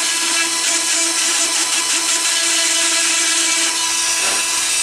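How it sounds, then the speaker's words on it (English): Steady high-pitched whine of a Dremel rotary tool buffing a fingernail, running continuously, close and loud, with a slight dip in pitch near the end. "you can use a Dremel. Dremel's better"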